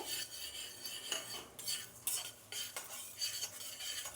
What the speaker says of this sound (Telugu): ఆవాలు కూడా సౌండ్ వస్తుందండి, చిట్లే సౌండ్ చూసారా, ఇలా వేగాలి